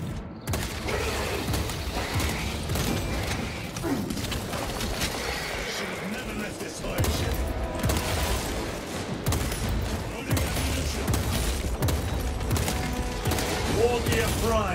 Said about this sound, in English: The orbital guns.